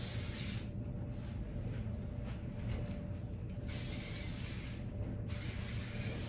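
Several bursts of hairspray hiss onto curly hair held upside down, close and sharp, separated by short pauses, with no talking.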